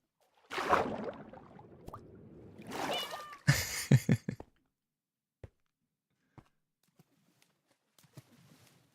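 A house cat gives a couple of drawn-out meows close by, followed by a burst of rattling and scattered faint clicks and taps in an otherwise quiet room.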